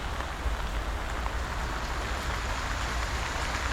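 Rain falls steadily and densely across a botanical garden full of plants and flowers, a constant near hiss with no voices.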